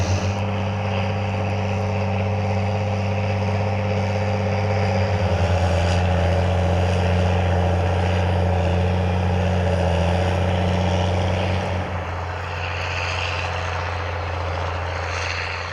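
A New Holland tractor engine labours under heavy drawbar load while pulling a Simba cultivator. It makes a loud, steady, close droning roar that shifts in tone about two-thirds of the way through.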